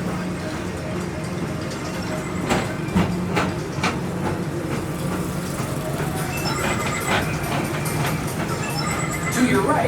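A Magic Kingdom PeopleMover ride vehicle glides along its elevated Tomorrowland track, producing a steady mechanical rumble with faint clicks and rattles, while a recorded announcer voice speaks over the motion.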